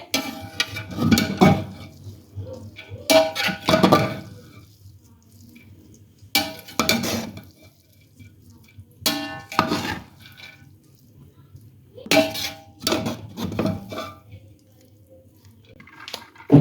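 A serving spoon clinks and scrapes against a cooking pot as Karachi-style beef biryani is dished out, coming in short, fairly loud bursts of metallic knocks and rustling separated by quiet pauses.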